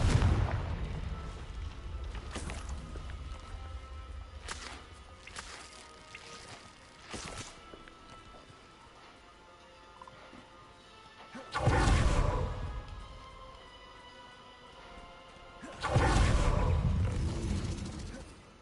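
Incendio and Confringo spell blasts in Hogwarts Legacy go off as a few loud, sudden booming bursts between quieter stretches, the last two especially heavy and each trailing off over about a second.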